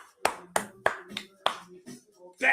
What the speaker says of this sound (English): Hand of applause, guys.